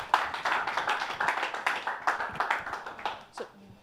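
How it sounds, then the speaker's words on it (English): An audience at a hackathon fireside chat on big data and AI claps in a steady round of applause lasting several seconds, moderately close, fading out near the end. "A round of applause for Foster."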